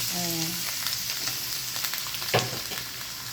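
Kale and canned fish stir-fried in a home pan, a steady close sizzle with a few scraping stirs and one sharper clatter partway through, brief tonal notes at the start, no talk.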